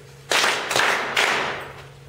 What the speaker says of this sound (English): 3 claps, yes.